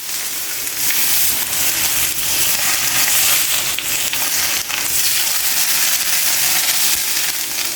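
Hot oil poured over spices for a mango or lasora pickle, a steady loud sizzle and crackling hiss lasting throughout with brief dips, no talking.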